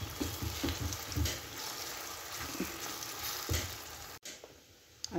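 Moong dal paste roasts in a pan for halwa, giving a steady soft sizzle with scattered scraping stirs, close and fairly quiet, with a brief drop near the end.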